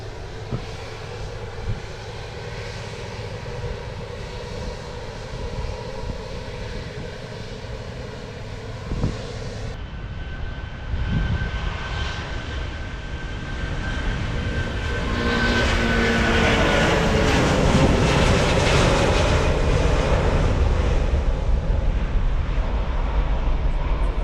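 An airplane's engine roars steadily, growing louder and fuller as it passes overhead, a broad rumbling drone that swells in the second half.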